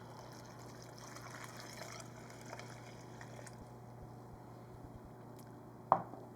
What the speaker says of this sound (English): Next, I'm going to add in our 4 cups of water.